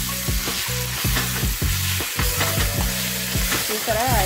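Ginger garlic paste fries in oil with a loud, continuous close sizzle, while repeated stirring scrapes sound against the pan throughout.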